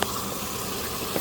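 Water running steadily in a small garden waterfall, a continuous close rushing gush with a brief splashy burst near the end.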